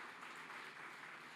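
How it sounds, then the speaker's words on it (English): Brief applause for Solomon at a Founders Day event, a soft, fairly distant patter of clapping that holds steady for a moment. "Give Solomon a round of applause"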